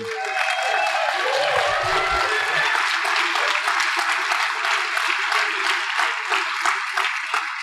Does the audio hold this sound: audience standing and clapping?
yes